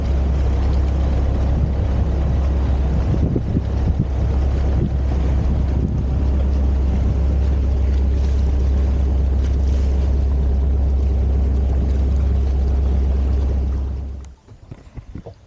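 A boat's engine drones steadily as it motors into a sea cove, low rumble with wind buffeting the microphone and water wash, cutting off near the end as the motor stops.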